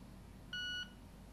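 One short electronic beep from a Victor Reader Stream powering on, a clean steady tone lasting about a third of a second over faint background hiss.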